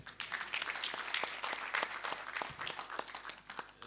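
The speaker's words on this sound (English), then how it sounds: "Give the Ndiwa a more than hearty clap." Audience clapping for Ndiwa at a summit in Kisumu, a crowd of hands applauding with sharp, uneven individual claps, fairly faint and steady for a few seconds.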